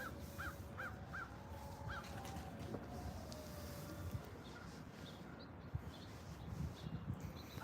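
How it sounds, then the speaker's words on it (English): Crows cawing outdoors in a yard, a quick series of short harsh calls near the start, faint and distant, then fading into low ambient background noise. "I think the crows see my decoy crow I put out."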